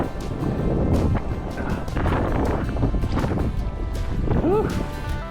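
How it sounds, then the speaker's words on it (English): Strong wind gusts roar across the microphone while out on the water in a small paddled boat, a broad steady rush with a voice talking over it. "Whoa, got a really big gust of wind."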